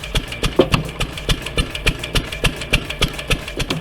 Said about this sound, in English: it features a massive engine with a smaller backup engine mounted on top